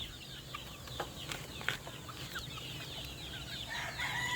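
Backyard breeder's chickens and roosters, faint scattered clucks and short calls at a distance over a low steady background, with a louder call near the end.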